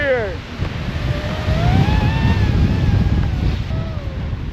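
Strong wind gusts buffet the microphone on a snowy lakeside trail at Loch Vale in January, a low roaring rush that swells and eases, while a faint high whistle and brief voices come through.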